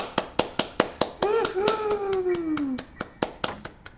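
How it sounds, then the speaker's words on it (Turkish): Steady rhythmic hand clapping, about four claps per second, rings out at a birthday celebration for Granny in the Granny 5 Years Mod game, while a voice rises in a drawn-out vocal cry partway through. "Alkışlıyoruz."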